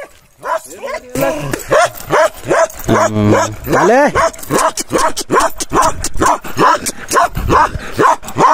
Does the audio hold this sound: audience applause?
no